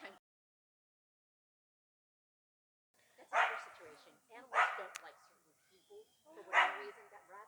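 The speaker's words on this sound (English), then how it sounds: "With that barking." Several short barks from a dog at an animal sanctuary campsite, spaced irregularly after a long silence, moderately near, with a person speaking faintly around them.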